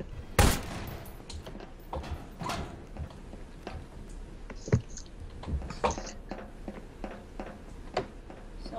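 Shotgun blasts in a Prop Hunt video game, a loud sharp shot near the start followed by scattered quieter gunfire pops and clicks through the rest, no talking.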